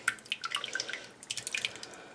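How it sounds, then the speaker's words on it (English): Wet paper pulp mixture is poured into a mould for homemade paper, giving a run of close, irregular splashy drips and wet plops of moderate loudness with no talking. "you just want to take and pour your mixture in. That sounds really disgusting."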